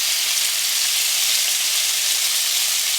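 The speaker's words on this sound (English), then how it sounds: "I'm going to put in here some smoky bacon to start off our stew with." Smoky bacon frying in a pan as the first step of a porter beef stew gives a steady, even sizzle and hiss throughout, with no talking over it.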